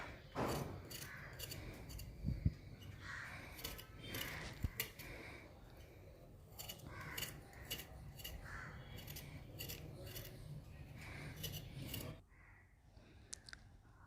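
Fresh ginger being peeled in a kitchen, with repeated close, faint scraping and rasping strokes in an uneven rhythm and a few sharper clicks.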